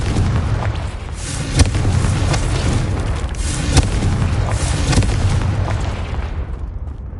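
A Confringo fire spell explodes in the video game Hogwarts Legacy, giving a loud, sustained rumbling blast with a couple of sharp booming hits within it and a trailing fade at the end.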